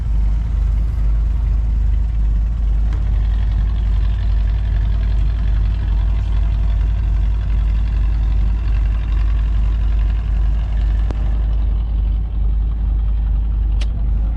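A motorized fishing boat engine runs steadily while towing another boat back in from open sea, a loud continuous low drone that fills the whole stretch without pause, with no voices over it.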